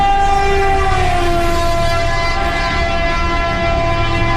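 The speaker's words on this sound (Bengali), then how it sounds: "ট্রেন স্টেশনে থামল" A cartoon train runs steadily and loudly, with a sustained horn blaring over the constant rumble of the rail carriages, no voices.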